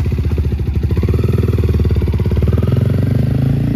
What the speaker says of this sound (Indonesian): Untuk starting sistemnya Kawasaki KLX 230 RS ini menggunakan electric starter aja ya sob ya.